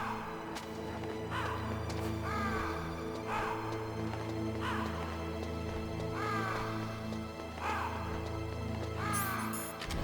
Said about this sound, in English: Oh, the crows devoured him.